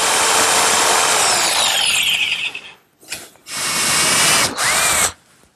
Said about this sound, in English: I'll clean it out with my jigsaw.